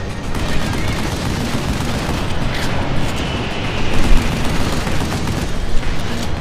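Rocket blasts and gunfire in the video game Vanquish form a dense, loud, continuous roar of combat with a couple of heavier booms near the end.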